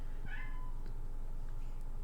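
A kitten gives a short, faint meow early on, followed by a couple of softer chirps over a steady low background hum.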